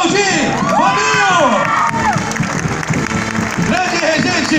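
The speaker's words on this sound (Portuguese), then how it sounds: "Pode aplaudir, Fabinho!" A crowd cheers, shouts and applauds loudly for a state school fanfare marching band at a civic anniversary parade on an avenue, with children's voices prominent and an announcer speaking over it.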